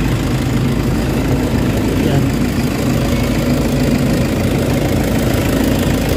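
A Toyota Hiace van engine with low power and delayed throttle runs steadily at idle, loud and close, a continuous low rumble with no talk.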